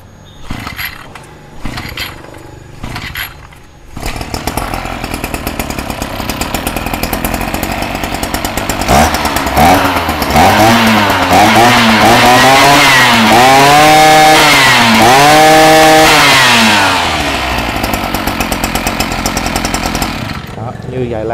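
A Kawasaki TJ53 brush cutter fitted with a Motoyama PRO shaft gets a few short pull-start tugs, then its small two-stroke engine catches and runs loud and close, revving up and down in repeated surges before settling.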